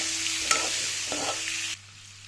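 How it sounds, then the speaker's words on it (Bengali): Eggs fry lightly in a pan with a soft, steady sizzle and a couple of brief stirring scrapes, then the frying drops away abruptly near the end. "ডিমগুলো হালকা ফ্রাই করে নিব"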